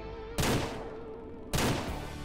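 Pistol gunshots in the game Ranch Simulator, two loud, sharp shots about a second apart, each with a ringing tail over a quiet background.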